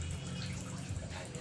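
Water pours steadily into a cooking pot for tilapia pangat with tomato, chili and salt, a short continuous splashing rush close by.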